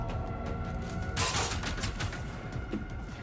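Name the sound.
robot machine shooting at player in Generation Zero video game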